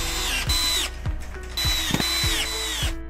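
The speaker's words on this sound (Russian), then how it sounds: "Уголок крепится вровень с торцом царги на саморезы из комплекта фурнитуры." Cordless screwdriver driving self-tapping screws through corner brackets into the side rail of a 160x200 lift-up bed frame, sounding as repeated whirring bursts that rise in pitch and stop abruptly with ratcheting clicks, loud and close.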